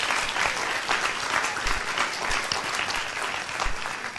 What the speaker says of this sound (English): Please join me in applauding our conveners, our attendees for their work today.